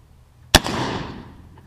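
A single sharp report from a CVA cap and ball black powder rifle, one loud close crack followed by a long rolling echo that fades over about a second.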